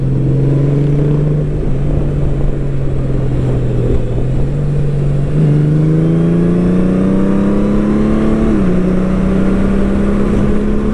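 A 2023 Honda Goldwing motorcycle with a reflashed DCT gearbox accelerates, its steady loud engine drone rising in pitch through a series of smooth automatic gear changes, heard close and alone.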